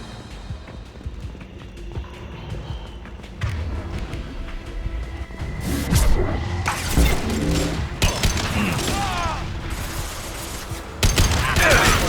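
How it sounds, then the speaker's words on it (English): In the Mass Effect 2 video game, loud gunfire and sharp combat impacts crack repeatedly among clattering mechanical effects, with bursts growing denser and harsher toward the end. "Firing a high-impact shot!"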